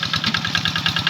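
Tractor engine working a flooded rice paddy during tillage, a close, loud mid-pitched diesel chug with a fast, even knocking pulse and rattling vibration throughout.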